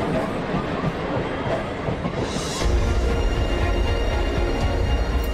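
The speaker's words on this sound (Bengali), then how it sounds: "হে ঠাকুর, ট্রেন ছেড়ে দিল।" A train pulls out of a crowded station with a steady, loud rumble of wheels and carriages that deepens and grows heavier partway through.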